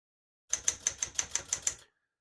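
Eight crisp, evenly spaced key strikes from a 1968 Smith-Corona Super Sterling portable typewriter, close and clear with a short ring after each, ending abruptly with no voices.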